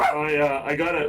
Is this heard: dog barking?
yes